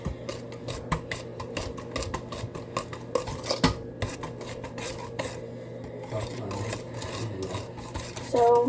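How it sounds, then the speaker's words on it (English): Cupcake batter being mixed in a bowl, with a rapid run of close scraping and rasping strokes against the bowl's side and small clinks along the way. "So just keep mixing till you don't see any chunks of cake batter in."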